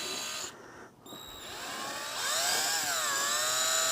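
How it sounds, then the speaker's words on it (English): Electric drill fitted with a small cleanup tool scrubbing grimy parts of an Ez-Go electric golf cart, a steady high whine that shifts in pitch as the bit loads and unloads, close and continuous with no talk. "So got my drill"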